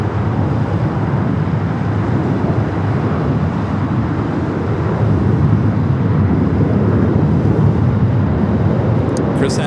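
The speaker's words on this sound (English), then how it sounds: "Taking off a taxiway Foxtrot on 25 right." Airliner departing LAX from runway 25 right off taxiway Foxtrot, a steady broad jet roar that holds loud and continuous throughout without talk.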